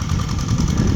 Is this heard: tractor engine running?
yes